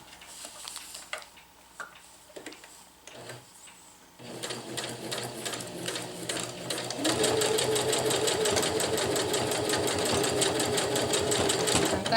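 A sewing machine stitches a reinforcement triangle onto a tarp, with a few scattered taps and handling sounds first, then a steady, close whirring run of rapid stitching that speeds up and continues to the end.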